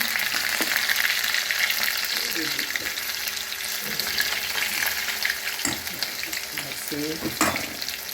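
Dahi bhalle fry in oil over medium heat, a busy bubbling sizzle close to the pan with occasional stirring clatter and a brief murmur of voice.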